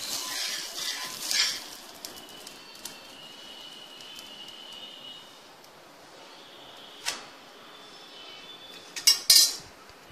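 Kodo millet onion dosa cooks on a pan, with a faint steady sizzle under sharp metallic scrapes and clinks of a utensil, clustered near the start and end, and no talking.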